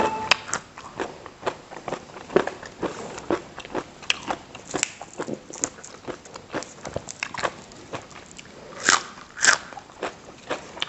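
Crunchy chewing of pickled shrimp eaten with rice, close and loud, with repeated sharp bites and crackling crunches in an uneven rhythm over several seconds, no talk.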